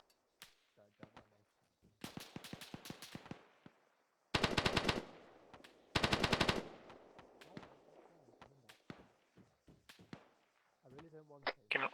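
Bursts of automatic gunfire and scattered single shots ring out at close range during a military base defence training exercise, with two loud sustained volleys standing out between sparser pops while soldiers talk over radios.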